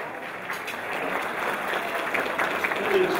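Steady applause from a banquet crowd at a county sports hall of fame dinner, moderately loud and continuous, building slightly toward the end, with a voice faintly audible over the clapping.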